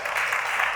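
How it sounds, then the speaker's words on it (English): A panel-session audience gives a brief, steady burst of applause that fills the whole short moment at a fairly loud level. "Please let's give our the learned seal a round of applause."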